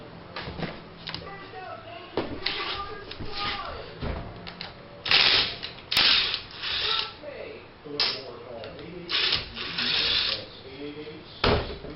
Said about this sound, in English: we're going to take the screws out and replace this one.